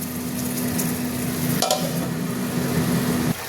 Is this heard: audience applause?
no